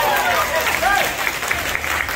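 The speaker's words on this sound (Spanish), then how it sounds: "Así que des un aplauso para ustedes mismos." A group at a K-Battle event applauds itself in a lively burst of crowd clapping. A few raised voices and cheers cut through near the start.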